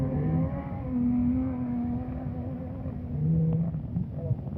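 Several cars idling and revving around a hilltop, a steady low engine drone with swelling roars, fairly close, under a continuous rumble.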